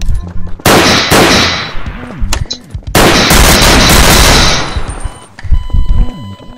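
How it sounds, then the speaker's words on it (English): Gunfire in Garry's Mod DarkRP erupts in loud, close bursts of rapid automatic shots, broken by short pauses, with a few single cracks toward the end. "Who's shooting?"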